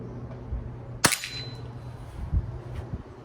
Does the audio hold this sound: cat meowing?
no